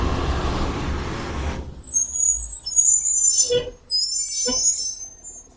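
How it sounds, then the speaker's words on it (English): A truck idles nearby at a red light, then lets out loud hissing bursts of its air brakes, two distinct sharp releases over a low engine rumble, close and with no talking. "Guys, that's definitely a CIA truck."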